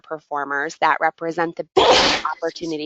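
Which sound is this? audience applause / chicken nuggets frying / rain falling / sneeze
sneeze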